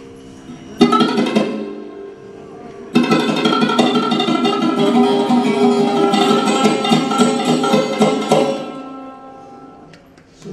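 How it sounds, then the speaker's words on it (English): A sarod is plucked with the fingertip rather than the fingernail, giving a softer, rounded tone: a short phrase, a pause, then a longer run of close, clear notes that rings out and fades. "If I play Sarod with fingertip, it will sound like this."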